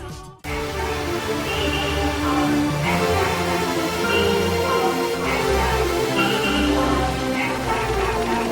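Remixed Pizza Tower video game music plays loud and continuous, a full electronic track with a heavy, pulsing low end and dense layered melodies after a brief abrupt cut at the start.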